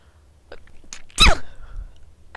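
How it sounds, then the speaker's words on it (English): One sharp, close human sneeze in the middle of otherwise quiet room tone, with a small intake of breath before it. "I sneezed again."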